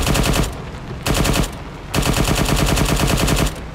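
Rapid bursts of automatic gunfire in the video game ARMA 3 in three long volleys separated by short pauses, loud and close, with no talking.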